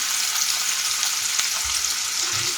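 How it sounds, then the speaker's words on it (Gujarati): Finely chopped medium onions hit hot tempering oil in a pan and crackle with a steady close sizzle, with a few soft low bumps near the end and no talking. "વઘાર સરસ એવો થઈ ગયો છે. એમાં આપણે ઝીણી સમારેલી મીડિયમ સાઈઝની ડુંગળી એડ કરી દઈશું."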